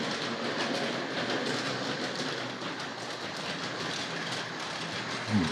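A Hornby R.258 Princess Elizabeth model locomotive from the early 1970s runs around a model railway track, giving a steady close whirring rattle with fine clicking, continuous and even throughout.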